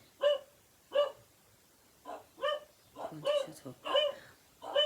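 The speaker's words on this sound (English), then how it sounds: "what they do is they sit on the stairs and then bark every time they see somebody going past" Dogs sitting on indoor stairs bark repeatedly, sharp close barks in irregular bursts, some quick doubled yips, loud with short gaps between.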